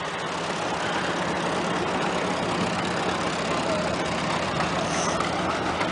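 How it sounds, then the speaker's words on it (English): Antique tractors at an old iron club parade run with a steady low engine rumble and idle, continuous and fairly loud throughout. "I'd love to see the little parade of all the tractors."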